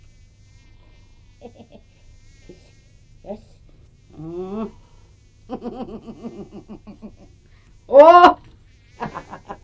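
Mosquitoes hum near an open window in short, close whining bursts that rise and fall in pitch, one loud sweep near the end, with a brief exclamation from a woman.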